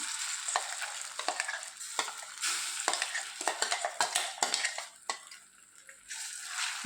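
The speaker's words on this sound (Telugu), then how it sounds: "ఇది పచ్చివాసన పోయేంత వరకు ఒక 2 నిమిషాలు వేయించుకుందామండి" Raw mango pickle mixture sizzles and fries in tempering oil in a pan while a spoon stirs and scrapes it in repeated clicks and knocks, close by, with no talking.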